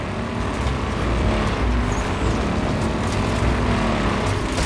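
The Warthog vehicle in Halo 5: Guardians drives with a loud, steady engine roar and rumbling, close and continuous, joined by scattered game effects.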